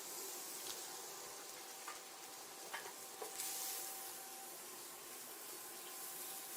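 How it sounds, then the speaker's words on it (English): Sisig sizzles on a hot sizzling plate at an outdoor Asian festival cooking demo, a steady, close crackling hiss that carries on without a break, with faint clicks of utensils. "we're gonna serve it in a sizzling plate"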